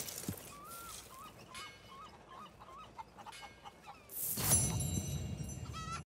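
Chickens cluck in a farm henhouse in the video game Red Dead Redemption 2, with a run of short, close clucks followed by a louder burst of flapping and squawking.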